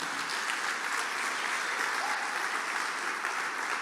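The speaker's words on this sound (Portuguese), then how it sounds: "Dá um aplauso a Jesus." Steady applause from a church congregation during a family evening worship service, sustained dense clapping that fills the room at an even level from start to finish, with no speech over it.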